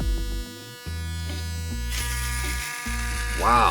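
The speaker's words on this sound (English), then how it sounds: "That's super powerful. Such a close shave." A palm-sized electric shaver with blades buzzes loudly and close while shaving, its pitch shifting as pressure changes, with a brief spoken exclamation over it.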